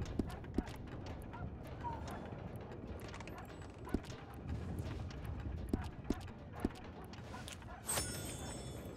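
Donkey hooves clopping on the ground in the western video game Red Dead Redemption, a run of sharp irregular clops over a busy rumbling background, ending in a brighter burst of noise.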